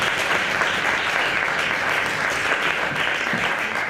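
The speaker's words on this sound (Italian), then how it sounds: "Io farei un grande applauso a Daniela Rinaldi" Steady audience applause at an Agile meetup following a design course presentation, a dense, continuous wash of many hands clapping at moderate distance with no voices over it.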